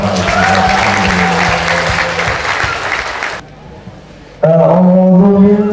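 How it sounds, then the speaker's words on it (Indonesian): An audience at a school graduation ceremony claps in sustained, dense applause that fades out, then a voice starts speaking over the hall's amplified sound after a short quiet gap. "Tepuk tangan Bapak Ibu."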